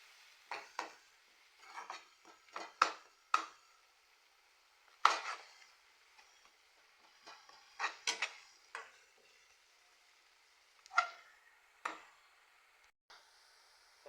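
Masala being sautéed for mutton gravy, with a spoon scraping and knocking against the pan in scattered strokes, close and fairly quiet, and only a faint sizzle underneath.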